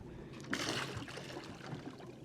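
An underwater robot hits the water with a brief splash, followed by steady trickling and lapping water from the boat while hunting lobster.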